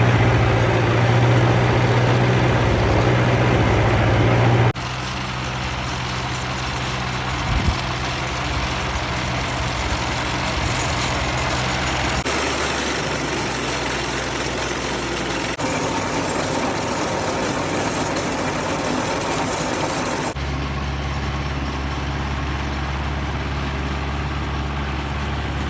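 A tractor engine idling steadily with a low diesel rumble, close by, continuous throughout with slight shifts in tone.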